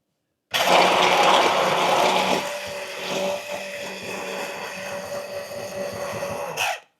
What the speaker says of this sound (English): let's start by blending our egg up